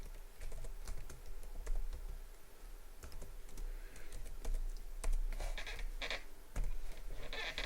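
Typing on a computer keyboard: irregular bursts of close, crisp key clicks with short pauses between runs. The sound is fairly faint, with no speech over it.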